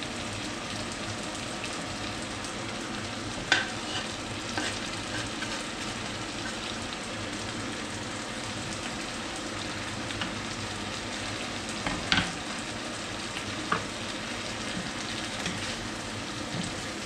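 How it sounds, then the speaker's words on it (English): Chopped garlic, three cloves, frying in a pan, giving a steady dense sizzle with a few faint clicks and pops over its length and no talking. "And now I put my garlic."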